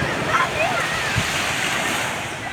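Surf and wind at Lancuk beach, a steady broadband wash of waves with gusting wind buffeting close to the microphone, continuous throughout with faint voices in the distance.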